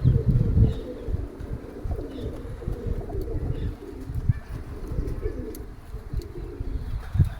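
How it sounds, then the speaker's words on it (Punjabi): Domestic pigeons released outdoors coo steadily and close by, with soft overlapping low calls throughout and occasional faint wing flutters. "ਅੱਜ ਫਿਰ ਕੱਢੇ ਸੀ ਕਬੂਤਰ"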